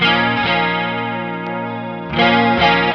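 Electric guitar chords through an NRG Reactor IV effects pedal with its shift switch down, giving a shimmering chorus-like tone and hollowed-out mids, sustained, then re-struck twice near the end.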